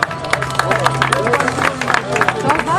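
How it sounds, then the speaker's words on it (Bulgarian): A crowd claps at a youth award ceremony in Stara Zagora, a steady patter of many hands with crisp individual claps over a low murmur of voices, continuing throughout. "Аплодисменти."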